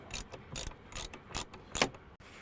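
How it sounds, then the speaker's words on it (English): An 8mm ratchet loosens the bolts holding a car side mirror in a salvage yard, with five quick bursts of rapid clicking at close range. "Now I'm going to use my 8mm ratchet to take these bolts off."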